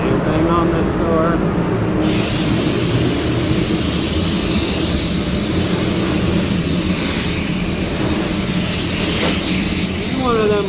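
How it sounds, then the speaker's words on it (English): A spray gun lays black paint onto a door, a loud, continuous broadband hiss that starts abruptly and runs steadily, with people talking faintly over it. "This is one of them like no drama jobs. You just spray it."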